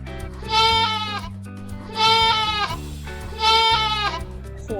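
A goat bleats three times in a steady rhythm. Each bleat is loud, close and quavering, with brief pauses between them.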